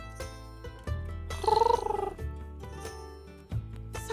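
An owl cat creature in the fantasy merchant game CraftCraft purrs in close, rhythmic rumbling pulses, with a brief chirpy trill partway through and no talking.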